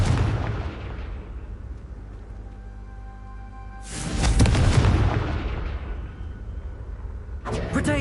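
A fiery Confringo blast spell erupts in the Hogwarts Legacy video game, a loud booming burst around the middle, with a second sharp burst near the end over a steady game backdrop.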